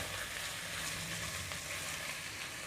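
Chili powder and mutton masala sauté in a pan for mutton curry, giving a faint, even sizzle with no distinct stirring strokes.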